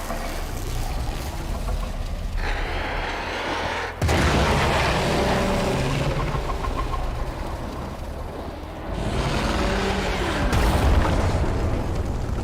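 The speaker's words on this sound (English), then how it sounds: "There should be useful detritus falling from the explosion." A heavy explosion in the video game Warframe erupts as a sudden loud blast, followed by dense rumbling debris and crackle that fills the whole stretch, with no talk over it.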